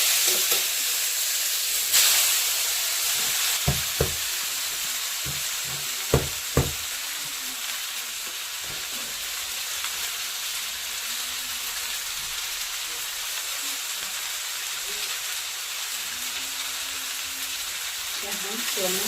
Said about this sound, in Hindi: प्याज अच्छा से हो गया, तो चलिए इसमें चाउमीन डालते हैं।